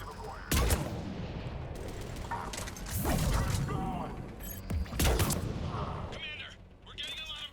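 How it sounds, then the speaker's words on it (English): Mortar fire in a Mass Effect Legendary Edition battle against Cerberus forces: several heavy booming blasts and bursts of gunfire crack out amid clattering mechanical noise, loud and close, under a continuous wash of combat sound. "Commander, we're getting a lot of mortar fire."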